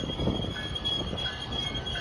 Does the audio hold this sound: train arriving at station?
yes